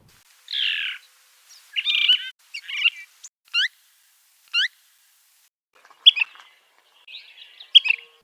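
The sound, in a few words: songbird singing, Arizona backyard bird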